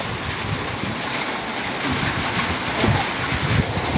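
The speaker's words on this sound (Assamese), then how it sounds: "বাহিৰত কিনকিনীয়া বৰষুণ দি আছে" Light drizzle falling outside, a soft continuous hiss of fine rain heard steadily at moderate level with no speech over it.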